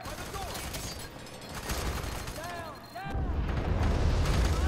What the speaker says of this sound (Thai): ไอ้นี่เอาลูกซองมายิงเลย